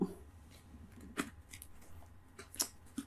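Tarot cards are shuffled softly by hand, a few quiet, crisp riffles and taps spaced across a calm, otherwise silent moment.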